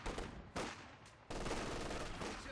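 Machine gun and rifle volleys crackle in a Company of Heroes 2 battle, loud and dense bursts in a continuous wash of game gunfire with sharp onsets, no voices.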